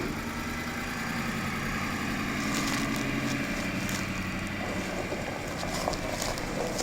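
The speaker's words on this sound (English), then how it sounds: "Freaking sorry for the mower noise." A riding lawn mower engine runs steadily nearby, a constant mid-pitched drone with a rough low rumble that holds at an even level throughout with no speech over it.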